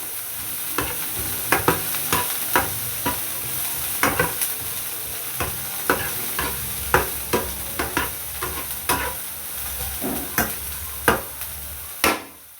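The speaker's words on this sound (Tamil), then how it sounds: "அடுப்பை கொஞ்சம் குறைச்சி விடுவோம், இல்லாட்டி எரிஞ்சு விட்டுரும் வெங்காயம்" Onions fry in a pan for chicken fried rice, a steady sizzle underneath repeated sharp scraping and clinking of a spatula stirring at an uneven rhythm, close and fairly loud with no talking.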